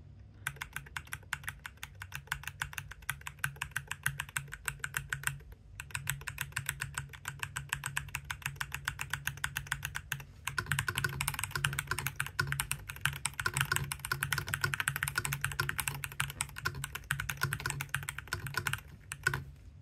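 Rapid, continuous clacking of keys on a Made68 computer keyboard, close and steady, with two brief pauses in the typing.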